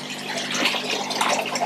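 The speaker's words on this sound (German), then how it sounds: "schon mal ein bisschen Wasser absaugen, dann hänge ich auch nicht bis zur Achse im Wasser" Pond water rushing through a hose as it is siphoned off into a barrel, a steady broadband gush that holds at an even level throughout, close and alone with no talk.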